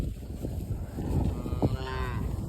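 Cattle in a trefoil pasture give a drawn-out, low moo at moderate distance, with steady wind-like rumble and faint background noise throughout.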